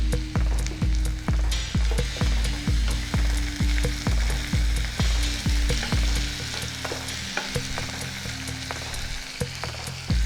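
Tomato pieces frying with browned onions in a pan make a steady sizzle beneath a loud, regular beat of spatula strikes against the metal, about two per second, before the stirring loosens into irregular scraping.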